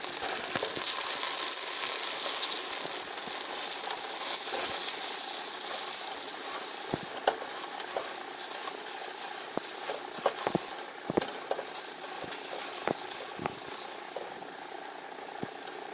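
Flour cooks in a hot pan with butter-like fat and thyme, a steady sizzle with scattered scraping and stirring clicks from the utensil, close and continuous without talk.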